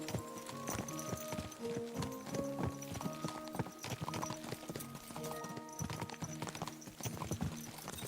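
Horse hooves clip-clop at a steady trotting rhythm while riding in Kingdom Come Deliverance 2, close and continuous over a faint tonal background.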